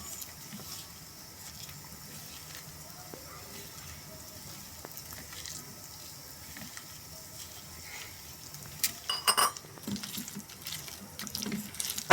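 Water trickles and splashes as it is added to a bowl of onion pakoda batter, a faint running patter that grows louder and more spattery toward the end.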